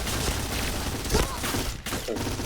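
MP9 submachine gun fire in the shooter game Point Blank rattles in dense rapid bursts, loud and continuous for a couple of seconds, with no talking.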